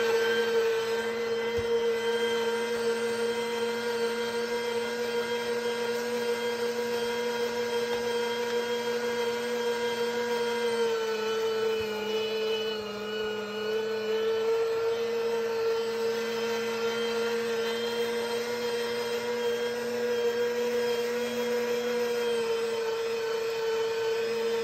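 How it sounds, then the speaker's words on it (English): An electric meat grinder runs steadily while grinding venison with fat for burgers, giving a loud, constant motor whine and hum that barely changes over the whole stretch, with no talking. "So we're going to grind that up again, make sure it's all good and ground up."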